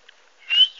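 A pet bird whistles a single clear, high, steady note lasting about a third of a second, close and fairly loud, preceded by a tiny faint chirp in otherwise quiet surroundings.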